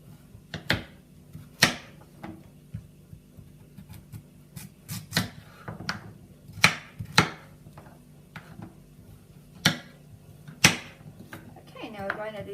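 Carrots are cut into large pieces with a knife on a board, a series of irregular sharp chopping knocks with pauses between, close and clear, with a person talking at times.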